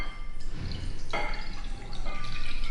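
Room-temperature water pours into a bowl holding yeast and sugar, a close trickling and splashing that shifts as the stream hits the mixture, with no voices.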